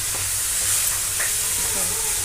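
Carrot halwa with almonds nearly finished in a pan, giving off a soft, even hiss of steam and frying with a faint stir or two close by.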